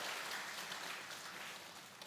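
An audience clapping together in a steady, dense wash of applause lasting a couple of seconds, moderately distant and gradually fading slightly, with no voices over it.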